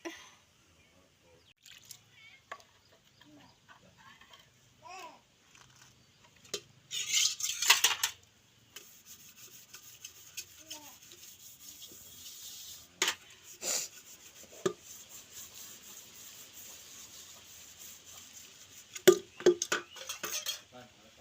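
Dirty pots, vessels and dishes are being washed by hand, with clanking metal, scraping and rinsing water in uneven bursts, fairly close and with quiet gaps between.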